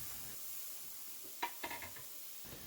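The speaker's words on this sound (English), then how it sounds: "I'm going to add a little extra avocado oil in since it's starting to dry out a little. And I'm going to add in my mushrooms." Mushrooms sizzle in a skillet with avocado oil, a soft steady frying hiss with a few sharp clicks of a utensil stirring near the middle, quiet and without talk.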